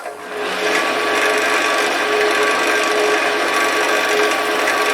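A wood lathe spins a three-cornered bowl blank clamped in a three-jaw chuck, a steady loud mechanical whir and hum that holds constant after a quick spin-up.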